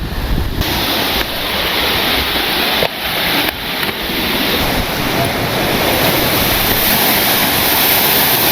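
Bulalakaw Falls in the Cordillera pours in a loud, continuous broadband roar of rushing water with wind buffeting the microphone, no voices.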